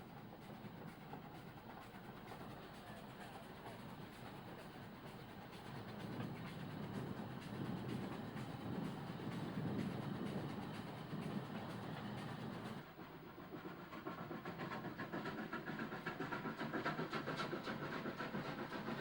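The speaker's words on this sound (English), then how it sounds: "The train is propelled along the precarious ledge of very crumbly strata to the second reversal." A steam train labours along a crumbly rock ledge on a mountain zigzag line toward a reversal point, with a steady rolling rumble and wheel clatter that swells to a loud, close peak before an abrupt shift to a thinner, continuing run.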